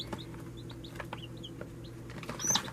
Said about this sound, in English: I hear a chick peeping